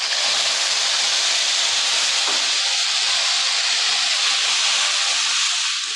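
Ground tomato paste cooks in hot oil with tempered whole spices. A loud, steady sizzling hiss stays close and unbroken throughout, and a faint clack is heard briefly near the middle.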